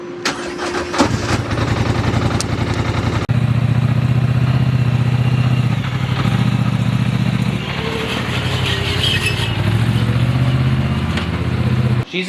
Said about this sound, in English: Next on the list, unload this thing. New shiny Polaris XP 1000.